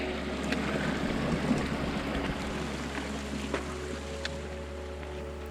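A creek flows beside an aspen grove near Carson Pass, a continuous soft rushing and trickling of water with a low steady rumble underneath.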